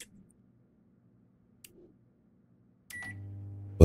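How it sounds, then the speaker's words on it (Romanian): Microwave oven in the video game Denizen, a few faint clicks, then a beep and a steady low electric hum that starts near the end and holds at a constant level. "Vreau să o bag la microunde."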